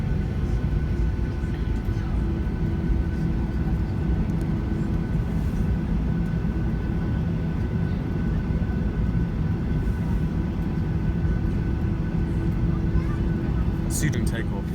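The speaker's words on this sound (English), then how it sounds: "So we're making our way onto the runway." Norwegian Boeing 737-800 airliner taxiing onto the runway at Stockholm Arlanda, heard from inside the cabin as a loud, steady engine drone and rumble throughout, with a brief clatter near the end.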